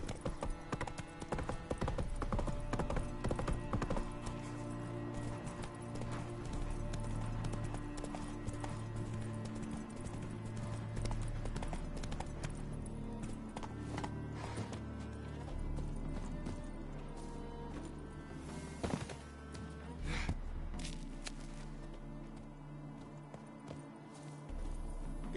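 Horse hooves gallop in The Witcher 3 video game, a steady, fairly close clip-clop rhythm running the whole time alongside game music and an occasional whinny, with no one talking.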